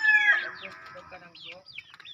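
Chickens clucking nearby, a run of short, varied calls that is loudest at the start and then breaks into scattered clucks and chatter.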